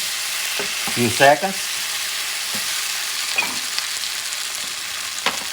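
Ribs frying in a stew pot as they are stirred, giving a steady low sizzle with a few louder scraping stirs near the start. A voice speaks briefly.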